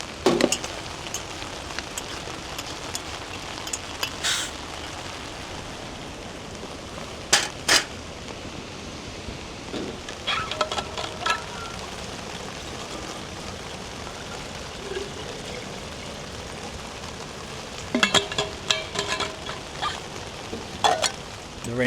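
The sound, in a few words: rain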